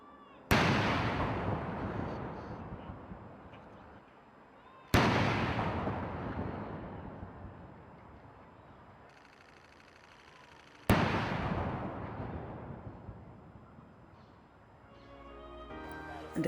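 Three heavy, booming cannon shots of an 82-gun salute at Queen Elizabeth II's funeral, spaced several seconds apart, each a sharp loud blast followed by a long rumbling echo that slowly fades outdoors.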